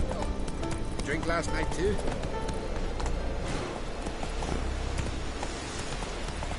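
Geralt's horse Roach trots in The Witcher 3 with steady, rhythmic hoof clip-clops that carry on throughout the clip. Voices speak over the hoofbeats.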